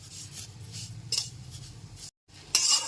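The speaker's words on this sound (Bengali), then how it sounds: "ক্রমাগত নাড়াচাড়া করেই শিমুলটাকে ভেজে নিতে হবে" Vermicelli is stirred and fried in a pan over a low gas flame, a soft continuous scraping and rustling of a utensil against the pan with a few brighter scrapes and a brief pause.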